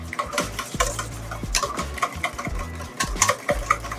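Mayonnaise being whisked in a bowl, a quick uneven rhythm of wire strokes clinking and scraping against the bowl, close and fairly loud, with no talking.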